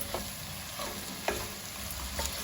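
Two green chilies fry in a pan with a soft, steady sizzle, broken by a few light stirring clinks and scrapes, fairly quiet and without talk.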